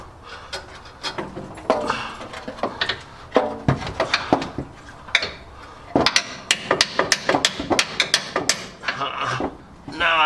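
Repeated hammer blows ring out against a metal rear four-link suspension arm on an off-road vehicle, sharp close strikes arriving in uneven bursts with brief pauses between them.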